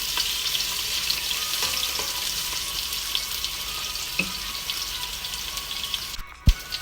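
Vegetables sizzle and fry steadily in a hot pan, a continuous bright crackling hiss with occasional pops and a stir or scrape near the end, with no talk.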